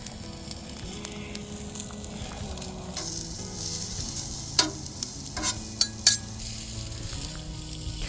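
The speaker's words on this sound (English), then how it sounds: "Chef Mike is grilling up onions and shrimp." Onions and shrimp sizzling on an outdoor grill on a desert evening, a steady close frying hiss with a few sharp clinks and pops from utensils, no talk.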